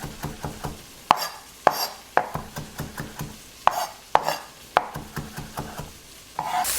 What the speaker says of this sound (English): So you'll just do a rough chop of the cilantro.